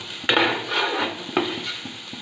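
Finely chopped onion sautéing in a pan for vegetable pulao, a steady close sizzle with a few sharp clinks and scrapes of a spoon stirring against the pan, no talk.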